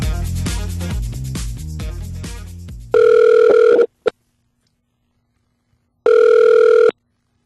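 Telephone ringing ahead of a phone interview call: two loud, steady electronic ring bursts about three seconds apart, the first following a stretch of music, with silence between rings.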